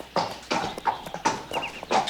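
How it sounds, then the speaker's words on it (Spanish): Horse hooves clip-clop in a steady, even rhythm, about six distinct footfalls heard nearby and fairly loud, with no talking. "¿Qué pasa con el caballo?"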